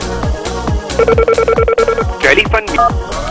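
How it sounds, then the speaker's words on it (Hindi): Keypad DTMF tones beep in quick succession as a mobile number is entered on a phone, each short steady tone distinct and fairly loud, with a voice speaking between and around the presses. "अब मैं अपना मोबाइल नंबर एंटर कर रही हूँ"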